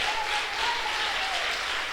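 Church congregation applauding together, a steady broad wash of clapping with no pauses, moderately loud and close.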